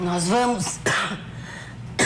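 A man on a Brazilian family TV talk program speaks, then breaks off with a rough cough and throat clearing, followed by a second short cough burst at the end, close to the microphone.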